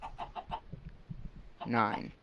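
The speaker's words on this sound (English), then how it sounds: "Well, I guess there's still chickens down there" Minecraft chickens cluck in a short run of quick, soft clucks, followed by a brief louder squawk, with a voice talking faintly alongside.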